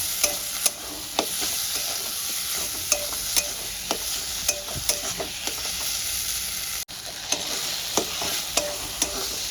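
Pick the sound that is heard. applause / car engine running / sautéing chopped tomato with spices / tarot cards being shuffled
sautéing chopped tomato with spices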